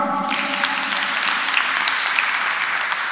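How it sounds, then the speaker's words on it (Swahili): A church congregation at a Kikuyu-language service in Thika claps for a doctor, a dense burst of steady applause filling the room from start to finish with no voices over it. "Daktari, tumpigie makofi."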